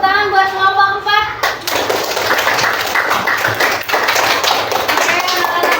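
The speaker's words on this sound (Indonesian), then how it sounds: "tepuk tangan buat kelompok 4" Children in a classroom clapping for a group, a burst of lively rapid hand claps that starts after a brief spoken lead-in and continues steadily to the end.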